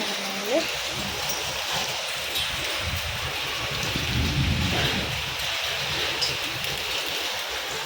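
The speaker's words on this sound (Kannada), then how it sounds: "ಇವತ್ತು ಒಳ್ಳೆ ಮಳೆ ಬರ್ತಾ ಇದೆ" Heavy rain with hailstones pours down outdoors, a dense, steady roar that holds at the same loudness throughout with occasional brief louder patters.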